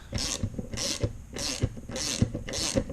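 A wrench ratchets to loosen bolts and release valve spring tension after a stuck keeper is removed. It sounds close and mechanical, with five evenly spaced rasping clicks in a steady rhythm.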